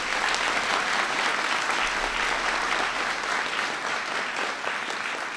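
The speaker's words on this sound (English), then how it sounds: "So give teachers a big round of applause." A big crowd at the White House Science Fair claps for teachers, a thick, loud, continuous wash of applause holding steady throughout.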